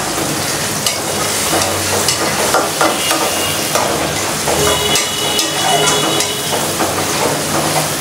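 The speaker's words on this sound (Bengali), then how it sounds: "তো দেখেন পেঁয়াজটা কিন্তু ভাজা ভাজা হয়ে গেছে হালকা পরিমাণ" Onions sizzle steadily in a hot pan, with scraping and stirring clatter throughout as the pieces are turned; the frying stays close and loud the whole time, with no talking.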